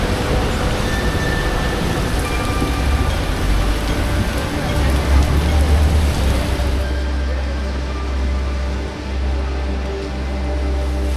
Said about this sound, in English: It's gonna downpour for a wee minute, get it out of its system